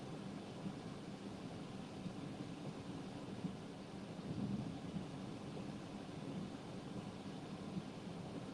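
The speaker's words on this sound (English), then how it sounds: "This is called being in the middle of a thunderstorm." Thunder rumbles low and distant through a thunderstorm, a continuous faint roll with a slight swell midway and no voices.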